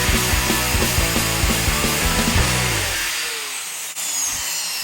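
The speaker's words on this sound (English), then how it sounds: "I'm going to use my trusty cutoff wheel here, and I'm just going to kind of gently go straight down on top of it here." A cutoff wheel bites into metal in a home garage, giving a loud, harsh whining grind for about three seconds before the tone drops away as the wheel winds down.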